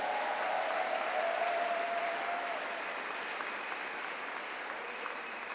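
A church congregation at Sunday worship breaks into sustained applause, a dense even wash of clapping from many hands that fades slightly toward the end.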